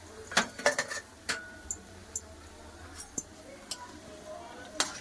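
A metal utensil clinks and scrapes against a pan as fried onion is lifted from the oil, with several sharp, irregular clatters spread across the clip over a quiet kitchen background.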